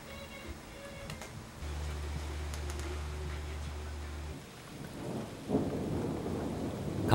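Steady rain falls outdoors while low thunder rumbles through, with a brief heavier burst of downpour near the end and no voices.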